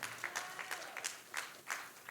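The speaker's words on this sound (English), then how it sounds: "a little clapping" Scattered clapping from a small audience at a school writers' week event, a few quiet, uneven bursts of hand claps rather than a full ovation.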